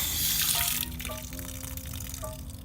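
Water runs steadily from a newly repaired exterior faucet, a constant hiss and gush at moderate level, with faint tonal squeaks and knocks from the fitting or pipes partway through.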